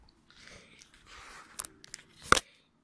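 Scissors snipping through thick twine, close and quiet, with a short rustle followed by a couple of small clicks and one sharp final cut.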